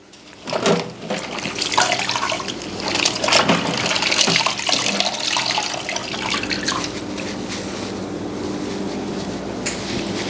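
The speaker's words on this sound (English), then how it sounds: "I need to wash my hands because they're sticky" Sticky hands being washed under a running kitchen tap, a loud close splash of flowing water with rubbing and splatter that settles into a steady stream.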